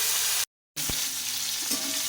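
Prawns fry in hot oil in a wok, a close steady sizzle broken by a brief dropout near the start, with a few small clinks and stirring sounds, no voices.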